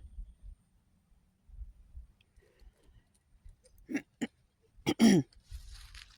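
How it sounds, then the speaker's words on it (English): A throat clearing with a couple of short harsh bursts, close and fairly loud, after a stretch of low rumbling and quiet. "I'm sorry about having to clear my throat"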